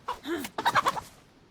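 Chicken in the survival game DayZ, set around Chernogorsk, giving a few short bursts of clucking and gobble-like squawks, closely spaced and fairly loud, with no talk over them.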